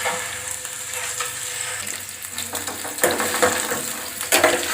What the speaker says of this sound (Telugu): గోల్డ్ కలర్ వచ్చేంత వరకు ఆయిల్లో నింపుకోవాలి